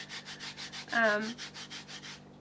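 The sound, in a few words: rubbing the rough surface of a B-plate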